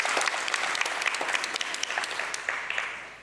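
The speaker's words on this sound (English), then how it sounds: "Let's give them another big round of applause for their dedication." An audience at a ministerial visit for a district development event breaks into steady, loud applause, a sustained wash of clapping with individual claps standing out, lasting a few seconds and then fading.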